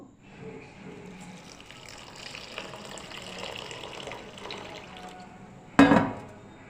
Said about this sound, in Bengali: তো এখন আমি জল দিয়ে খুব ভালো করে ধুয়ে নেব।